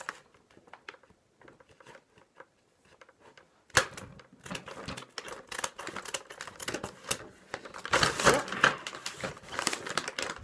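Plastic toy packaging for Jurassic World mini figurines is cut and pulled open, with sharp clicks and snips, then louder crinkling and rustling of plastic close up.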